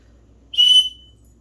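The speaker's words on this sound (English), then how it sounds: "It's also got an emergency whistle." A single loud, piercing blast from an emergency whistle in a blizzard car kit, lasting about a quarter second and standing alone against a quiet room.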